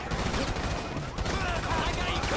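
Dense gunfire in the GTA 5 video game, rapid overlapping shots and bursts that sound like machine guns and a fusillade, loud and continuous throughout, with faint voices mixed in.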